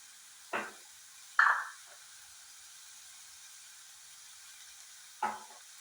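Bitter gourd thoran is stirred in a pan: three short spatula scrapes against the pan, spaced apart, over a faint low hiss in an otherwise quiet kitchen.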